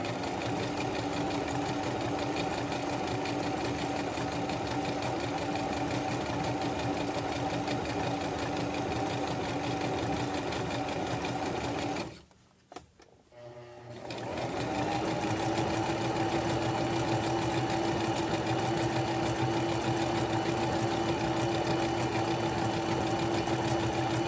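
A sewing machine stitches fabric for a headband, running as a steady close mechanical whir that stops briefly midway and then resumes at the same even pace.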